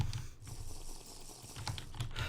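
Quick bursts of mouse clicks from a Minecraft player, sharp clicks in close clusters with short pauses between them, heard close up and fairly quiet, with no talking.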